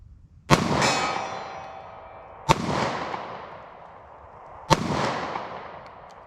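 Three sharp shots from a compact 9mm handgun fired at a target 50 yards away ring out about two seconds apart, each loud crack trailing off in a long, fading outdoor echo.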